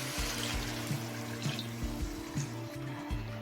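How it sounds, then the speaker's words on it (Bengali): Hot water pours onto fried Gobindobhog rice and lentils in a pot for khichuri, a steady close stream of running, splashing water, with a low background hum and no speech. "এবার পরিমাণ মতো গরম জল দিয়ে দেবো"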